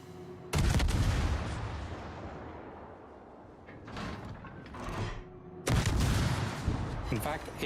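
Omaha cruiser in World of Warships firing HE shells: two loud, close salvos about five seconds apart, each a sharp blast trailing into a rumbling roar.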